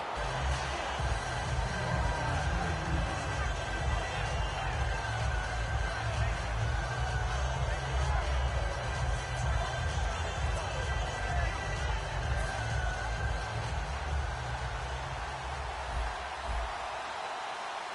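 A home crowd roars steadily through a night football game in a video game, a dense, continuous wash of noise lasting throughout.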